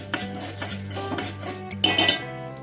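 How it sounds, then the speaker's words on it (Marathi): Popcorn kernels stirred in hot oil in a pan, close-up metallic scraping and clinking of a utensil against the pan in short repeated strokes over a steady low hum. "या तेलामध्ये तेल गरम झाल्यावर मी हा पॉपकॉर्न टाकलेला आहे आणि त्याला तेलामध्ये चांगलं परतून घेऊ"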